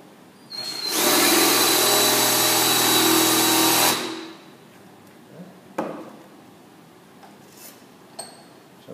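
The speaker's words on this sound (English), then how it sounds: "now I'm going to drill a piece of steel with it." An SDS Bionic bit on a drill bores into a piece of steel through a pilot hole, a loud steady high whine lasting about three seconds before stopping, followed by faint clicks and handling noises.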